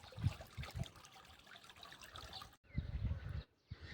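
Water trickles and dribbles at an old village water source in Kundi, a faint, irregular flow with soft splashes and bumps nearby and brief near-silent gaps, with no voices.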